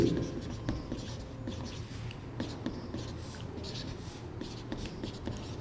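Chalk or a marker scratches across a board during a Class 11 maths lesson on functions. Short strokes and taps repeat irregularly, close and moderately loud, over a faint low murmuring voice.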